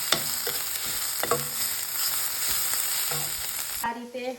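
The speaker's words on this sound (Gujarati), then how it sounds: "થોડી સોટે કરી લઈશ" Palak paneer stuffing sautéed in a pan with coriander-cumin powder, a loud close sizzle broken by rhythmic spatula scrapes and taps, alone, ending with a sudden shift as the heat drops.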